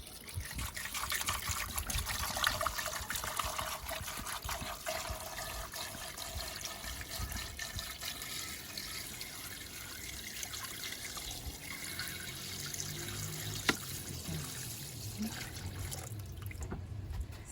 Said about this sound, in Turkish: Evet şimdi suyunu döküyorum.